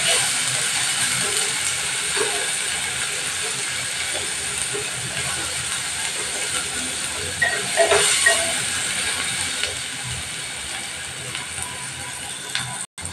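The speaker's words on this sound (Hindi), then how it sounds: "अब मसालों को अच्छे से मिला लें।" Spices frying in a pan for masoor dal with drumstick give a steady, close hiss of sizzling throughout, with only faint hints of stirring.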